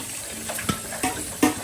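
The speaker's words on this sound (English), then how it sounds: "With this, you want to go wash rice." Rice is washed in water with a sieve, producing soft splashing and sloshing with a few distinct watery swishes in a short, moderately quiet burst.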